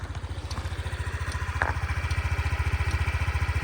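A Honda Dio 110cc JF31 fuel-injected scooter engine runs at a steady idle nearby, its regular low putter pulsing evenly throughout with a faint metallic click partway through and no talking.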